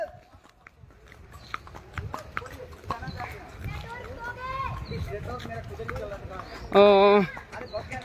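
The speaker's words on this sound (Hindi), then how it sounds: "देखिए अभी हम लोग घोड़ा पे हैं।" Horse hooves clip-clop at a walking pace beneath a group of riders while people chat nearby, and a brief loud tonal call breaks through near the end.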